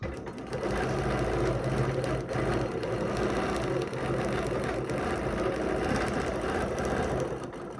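A sewing machine runs continuously while stitching a quilt guided by a ruler, producing a steady, loud, fast mechanical whir and rattle that barely varies for the whole stretch.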